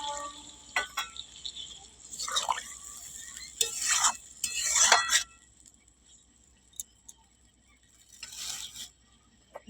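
Water poured into a pan of soybean and potato curry, short splashing and sizzling bursts followed by stirring, then a quieter stretch and one more brief scrape, heard close up.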